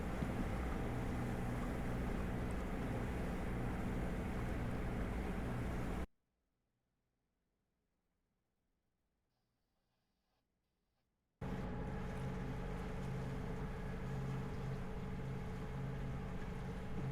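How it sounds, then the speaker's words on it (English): Private boat sailing from Ganges Harbour on Salt Spring Island to Sidney, British Columbia: a steady loud engine and water rush that drops to near silence midway before resuming, with no voices. "we sailed back by private boat from Ganges Harbour to Sidney"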